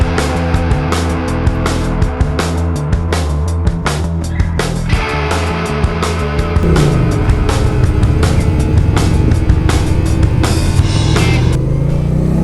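An Indian Challenger or Chieftain motorcycle engine rumbles loudly while riding, with a steady, throbbing drone, repeated clicks and knocks, and a rising rev with louder wind and engine noise in the second half.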